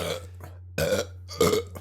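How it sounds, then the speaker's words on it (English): Three burps follow one another in a short burst, each a close, throaty belch, the last loudest, with quiet pauses between them and no talk. "It's time to count the burp tally."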